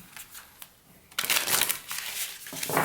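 A tarot card deck is shuffled by hand, a crisp, riffling crinkle that starts after a second of quiet and keeps going in close, dense bursts, with no one talking.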